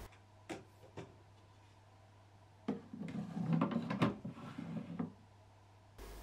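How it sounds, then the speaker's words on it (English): An incubator tray for hatching chicken eggs slides into place with a soft scraping run of about two seconds, preceded by a few faint clicks and taps in an otherwise quiet room. "My incubator has a tray that just slides in"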